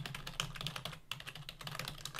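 Computer keyboard keys pressed in a rapid, irregular run of crisp clicks, close and fairly quiet, with no talking.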